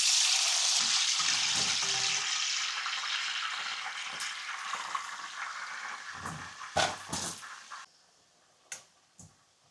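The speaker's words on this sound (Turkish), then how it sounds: "Suyunu süzdürüp tuzladığımız patateslerimizi de kızartma tavuğumuza bir taraftan ilave ediyoruz." Broadband sizzling of potatoes frying in hot oil, loud at first and gradually fading, with a few sharp clinks and scrapes toward the end.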